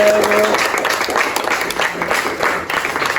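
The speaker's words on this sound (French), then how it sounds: "On acclame très fort pour nous-mêmes." A church congregation at a Christmas service claps and applauds together, a dense continuous wash of hand claps lasting about three seconds, with a brief musical tone fading at the start.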